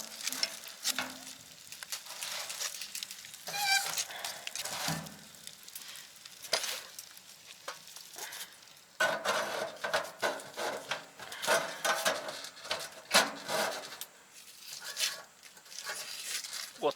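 Shashlik and steak frying on a stove inside a tent while winter ice fishing, a steady crackling sizzle with stirring and wooden clatter, and people talking faintly over it.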